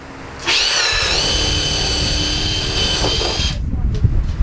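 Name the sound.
drilling pilot holes with paddle bit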